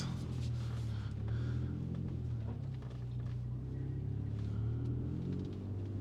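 A Ford Ranger Raptor revs hard as its wheels spin in sticky mud, giving a loud, continuous engine roar and low rumble that holds steady close by.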